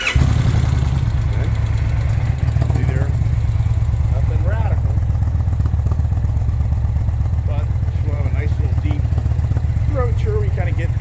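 A 2023 Indian Pursuit motorcycle engine starts and settles into a steady, loud low idle with a continuous rumble, while a person speaks intermittently over it.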